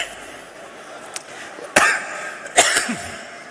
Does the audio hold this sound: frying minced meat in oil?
no